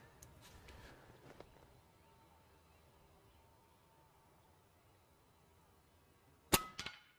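An Evanix Rex-Ibex high-power air rifle firing outdoors, a single sharp loud crack near the end followed by a brief clattering echo, after several seconds of faint ambient noise.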